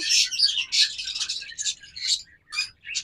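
A pair of pet birds at a bird shop chirps in quick, bright bursts, close and clear, with short pauses between clusters of tweets and no other sound behind them.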